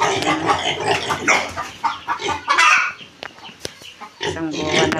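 Backyard chickens and a rooster clucking close by on a rural Philippine homestead, busy overlapping clucks and squawks throughout, with a person talking intermittently.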